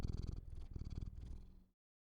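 A contented cat purrs close up in a steady, rumbling rhythm of repeated breaths, loud and clear with no talking, until it stops abruptly.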